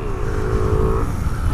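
A Honda CB Twister 250 motorcycle engine, 2018 model without ABS, drones loudly up close, its pitch holding briefly before dropping off as the rumble continues.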